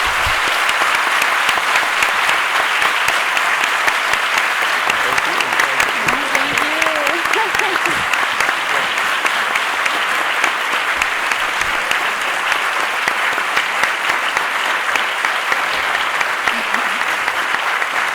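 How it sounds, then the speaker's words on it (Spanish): Sustained, dense applause fills a hall at a book talk, steady and loud throughout, with a faint voice briefly audible beneath it. "Bueno, un fuerte aplauso."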